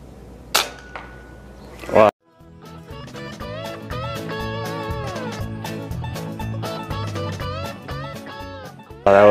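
A Kral Jumbo air rifle fires one sharp shot outdoors during a hunt, followed by a second crack moments later, with melodic background music playing between them.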